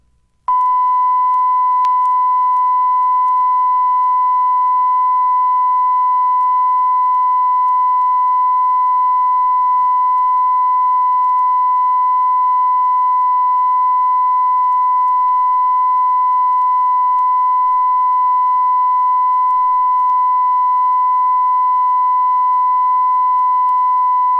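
A loud, steady 1000-cycle test tone at 100% modulation from a 1960 Command Records stereo test LP holds unchanged and unbroken, a pure pitch sustained throughout with nothing else audible.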